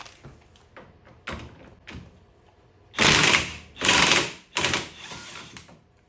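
A wrench turning the bushing bolt on a golf cart suspension: a few light clicks, then three loud, harsh ratcheting bursts close by, each lasting about half a second, with no talking.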